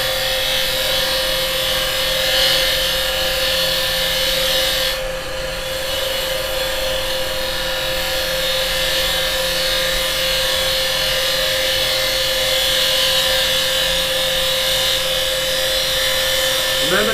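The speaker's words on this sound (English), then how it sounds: "I'm just running my bevel along and getting a nice cut" Steady broadband whirring hiss of a carbide chisel taking a bevel-riding cut on a side-grain wooden pen pot spinning on a wood lathe, constant and close throughout with the motor hum underneath.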